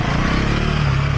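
A 2024 Husqvarna Svartpilen 401 motorcycle engine pulls steadily under acceleration on a test ride, a continuous close buzzing drone with a rising pitch toward the end, with no talk over it.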